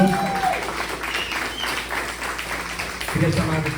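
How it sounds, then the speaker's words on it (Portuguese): A Baptist church congregation at a Sunday service applauds in a dense, steady wash of clapping, with a voice talking over it and rising again near the end. "Você pode dar um forte aplauso ao Senhor."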